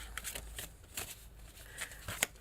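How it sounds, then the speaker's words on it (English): Tarot cards being cut and handled: soft, quiet papery riffles and slaps in a few short bursts, close and faint, with no talk. "One more card, and then we will cut the deck."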